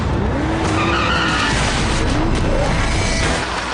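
An Aston Martin DBS skids on a track, its tyres squealing steadily over a loud, continuous roar of engine and road noise for several seconds.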